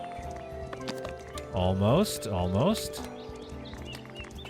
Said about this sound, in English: Where's that horse coming from?